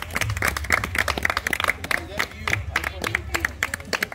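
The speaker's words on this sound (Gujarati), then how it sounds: "તો તમે બે ગળા હોતા તાળીઓ પાડો બકા" An audience at a Ganesh festival event claps in a quick, uneven burst of many hands, close and fairly loud, with a voice talking over it and crowd chatter in the background.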